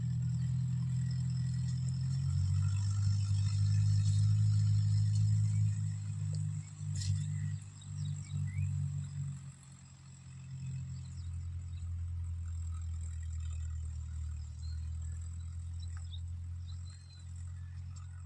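A tractor engine rumbling across a farm field being ploughed for onions, a steady low diesel drone that is loud at first, then eases and fades somewhat as it moves away, with no talk.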